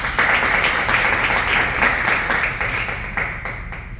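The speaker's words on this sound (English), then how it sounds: "let's hear a huge round of applause for our VPE" A Toastmasters club audience applauds steadily at a meeting, dense sustained clapping throughout that fades slightly toward the end, with no voices over it.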